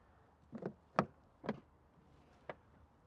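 A Range Rover SE's soft-close door pulls shut with a few soft, close thuds and clicks in a quiet setting: a cluster of knocks, then one last faint click.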